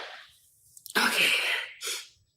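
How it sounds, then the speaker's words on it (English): A single person's sneeze, a quick inhale then a loud, close, sharp burst lasting about a second, followed by a short trailing breath, with no talking around it. "I gotta sneeze"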